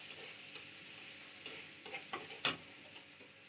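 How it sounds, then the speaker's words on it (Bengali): Onions frying in oil in a pan, a soft continuous sizzle with a few light stirring clicks and one sharper scrape, close but quiet, no talk. "প্রথমে চুলাতে প্যান বসিয়ে দিয়েছি এবং পেঁয়াজ দিয়ে দিয়েছি তেলের সাথে একটু ভাজার জন্য।"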